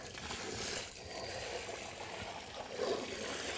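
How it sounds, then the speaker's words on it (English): Water is poured around the base of a newly planted apple tree set in all-purpose potting soil, making a short, soft splashing and trickling wash close by with no voices. "I kind of just dump a little water"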